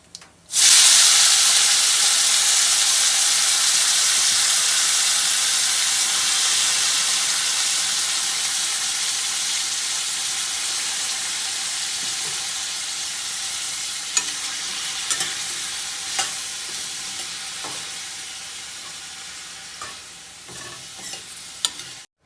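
Pointed gourd sabzi tempers in hot ghee with cumin, asafoetida and turmeric, a loud continuous sizzle that gradually softens, punctuated near the end by a few sharp stirring clicks of a spoon.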